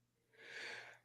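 A single quiet, breathy sneeze bursts out in a studio during a sports betting talk show, a brief airy hiss that rises and fades within a second.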